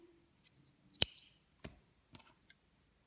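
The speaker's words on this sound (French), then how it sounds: "Là maintenant, on va couper notre fil." Scissors snip through crochet yarn while making an owl bookmark: one sharp close cut followed by a few fainter clicks of the blades, quiet and without talk.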